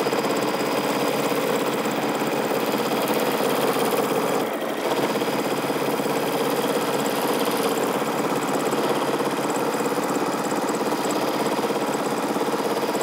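A sewing machine stitches steadily through layered quilt fabric while the quilter meanders to hold the layers down, a continuous close whirring hum with one short pause near the middle.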